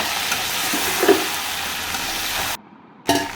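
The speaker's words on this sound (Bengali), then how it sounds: "সেই তেলের মধ্যে পেঁয়াজ কুচি দিয়ে দিয়েছি, লঙ্কা, তারপর ভাজা চিকেনগুলো দিয়ে দিলাম। এবার ভালো করে একটু কষে নেব।" Fried chicken pieces with chopped onion and chilli sauté in hot oil, a close, continuous sizzle with a stir or two, briefly dropping out near the end before resuming.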